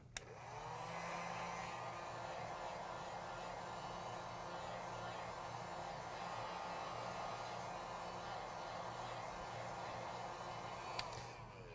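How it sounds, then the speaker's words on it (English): A heat gun runs steadily while it heats a phone screen, giving a continuous whooshing blower roar of even loudness from start to finish. No one speaks. "So I'm going to go ahead and turn this on, heat up my screen."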